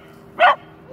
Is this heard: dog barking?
yes